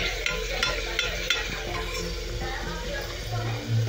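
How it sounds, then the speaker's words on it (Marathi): Onion with ginger-garlic paste sautéing in a pan, a steady low sizzle with a few soft stirring knocks, close and continuous, with a slightly louder bump near the end. "तर आता हे चांगलं आपण थोडे 5-10 मिनिटाचं परतून घेणार आहोत"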